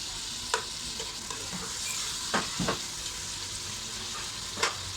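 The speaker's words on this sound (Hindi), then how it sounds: "जैसे अदरक लहसुन थोड़ा सा भुन जाए तो इसमें ये टमाटर डाल देते हैं।" Tomatoes drop into ginger and garlic frying for an aloo palak salan, a continuous hot sizzle with several sharp spatula scrapes and stirring knocks, close up and without speech.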